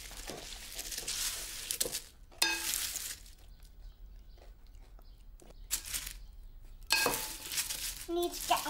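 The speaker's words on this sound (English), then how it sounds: "We need a good stir now" Spoon stirring a thick flake cake mixture in a bowl, with scraping and clinking coming in short bursts separated by quieter pauses.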